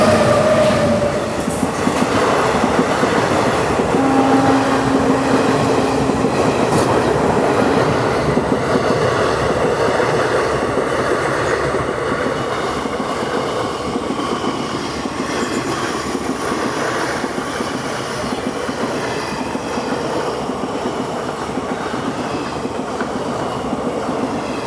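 Indian Railways train with an electric locomotive rumbling past at close range, loud continuous rolling and clatter of wagons with faint wheel squeals, no voices.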